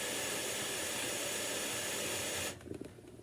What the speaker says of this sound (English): some people are having problems with an air leak on their humidifier